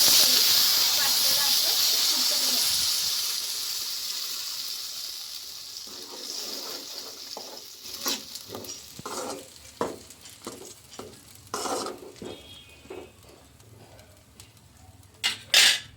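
Cumin seeds and broken dried red chillies sizzle in hot tempering oil, starting as a loud steady hiss that fades gradually, followed by sharp intermittent clinks and stirring sounds in the pan.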